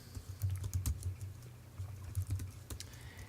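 Typing on a computer keyboard while entering a password, with soft, irregular bursts of keystrokes that pause briefly and then resume, close by and fairly quiet.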